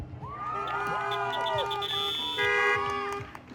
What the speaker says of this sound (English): Thank you for the honks.